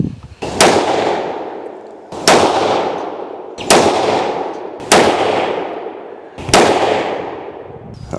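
A Tikka T3x in 22-250 with a 26-inch 1:8 twist barrel fires 55-grain Sierra GameKing handloads over AR2208: five loud, sharp cracks about 1.3 to 1.5 seconds apart, each with a decaying echo, no talking.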